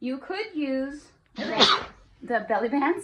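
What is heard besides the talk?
sneeze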